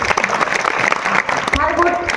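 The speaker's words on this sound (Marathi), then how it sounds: "एकदा जोरदार टाळी स्वतःसाठी वाजवतो" Loud, strong applause from an audience at a Marathi kirtan devotional gathering, a thick wash of many hands clapping, tapering off as a voice and a faint tonal sound come in near the end.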